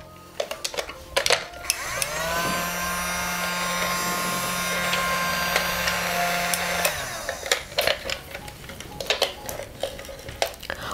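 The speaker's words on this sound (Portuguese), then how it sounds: "o aspirador de pó," A Happy House toy vacuum cleaner whirs steadily for about five seconds with a high motor whine, framed by clicks, clatter and handling of plastic toy appliances before and after.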